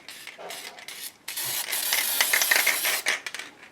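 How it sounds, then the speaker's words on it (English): An aerosol can of tacky spray adhesive sprays in bursts: a short hiss, a pause, then a long sustained spray with slight sputtering before it stops. "I'm going to bring in my tacky spray."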